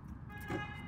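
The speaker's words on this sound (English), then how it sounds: "We can have a honking war." A car horn sounds faintly at a distance, a short steady tone under general road noise, with a brief louder swell partway through.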